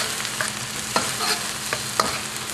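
Chili and shallot aromatics fry in a hot pan with a bright, continuous sizzle, close and fairly loud, with a couple of sharp clinks or scrapes from stirring.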